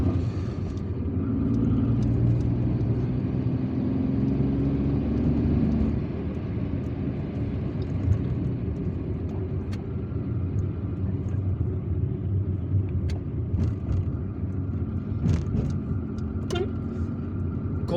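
A car driving through the streets of Algiers toward Telemly, heard from inside as a steady low engine and road rumble, with faint scattered traffic clicks and knocks throughout.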